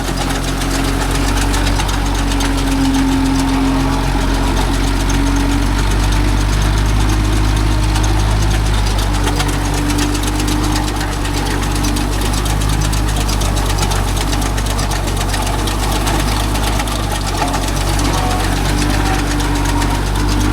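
A Kubota MU4501 tractor's diesel engine runs close and loud with a steady, low knocking throb and a constant mechanical hum the whole time.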